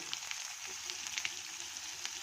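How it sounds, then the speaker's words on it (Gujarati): Onion sizzling and frying in hot oil in a pan, a steady crackling hiss with scattered sharp pops, close up. "ડુંગળીને પણ આપણે આવી રીતે ફ્રાય કરી લઈએ"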